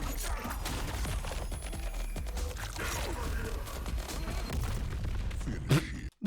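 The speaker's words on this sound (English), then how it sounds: "The fucking explosion." Booming explosion and crashing game effects from Mortal Kombat 1, loud and dense throughout, with rumbling low end and a sharp burst near the end.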